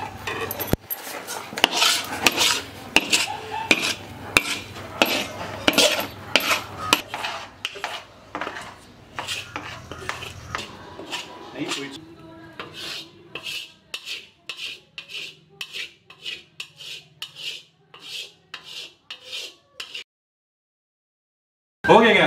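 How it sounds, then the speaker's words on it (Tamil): Ghee Mysore pak mixture is poured from a pan into a tray and scraped out, giving repeated metallic scraping and clinking strokes, loud at first and then lighter, stopping into a brief silence near the end. "ஸோ இந்த மாதிரி ஸ்டேஜ் வந்ததுக்கப்புறம் எடுத்து ஊற்றிக்கலாம். நம்ம வந்து மைசூர் பாக்கு எடுத்து ட்ரேயில் மாற்றிக்கலாங்க."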